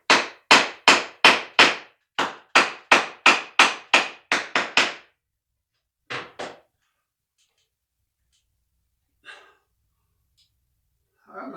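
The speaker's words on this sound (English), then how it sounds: "tap up there with my hammer just because I want it tight against that wall." A hammer taps a faux wood beam up against a ceiling, about fourteen sharp, quick blows in a fast run, then a pair of taps and a few scattered faint knocks after long pauses.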